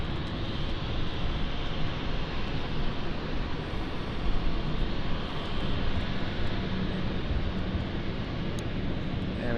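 An airliner on the Florence flight arrives at London City Airport, a steady broadband jet roar holding at moderate level throughout, heard at some distance with no talk.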